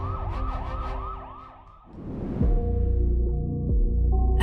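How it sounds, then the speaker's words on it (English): An ambulance siren wails loudly and close in a steady rising-and-falling cycle, then shifts to a lower, harsher pattern over a heavy rumble of road traffic, with no voices. "The ambulance arrived moments later, and Aiden was rushed to the hospital."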